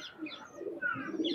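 A single Lakha Maya pigeon gives a brief, quiet burst of cooing close up, a couple of short throaty phrases with no voices over it.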